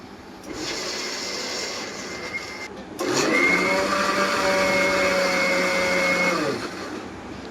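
A mixer grinder grinds coconut for fish curry: a short quieter run, a brief pause, then a loud high whine that holds for several seconds and winds down, heard close with no talk.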